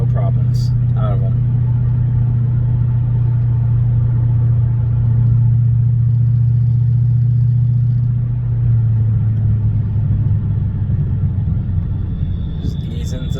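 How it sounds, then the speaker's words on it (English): A Lexus LS400 with performance brakes rolls through town, its engine a steady low hum and road rumble heard from inside the cabin, while someone talks over it. "I'm driving through town right now."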